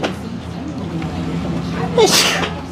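One sharp sneeze near the end, loud and close, over faint room noise.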